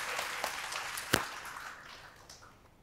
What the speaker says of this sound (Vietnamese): Mọi người vỗ tay cho em một chút.